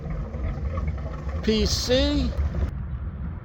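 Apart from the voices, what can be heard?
Formula 34 PC boat twin engines running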